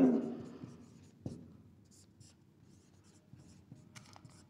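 Chalk or a marker scratches across a board during a geometry lesson on a square's diagonals, producing faint, scattered, close strokes after an initial thud.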